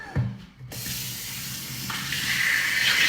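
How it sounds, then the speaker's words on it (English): Water runs steadily from a faucet to rinse hair during a scalp wash for dry scalp and dandruff, starting after a brief quiet moment and continuing as a close, even gush with slight splashing changes. "All right, so we're gonna rinse this."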